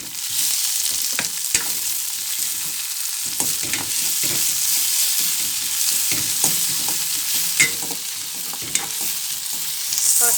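A red onion sizzles in hot oil for a Sri Lankan cabbage tempering dish, giving a continuous bright frying hiss broken by occasional clicks of stirring, close and loud, with no voices.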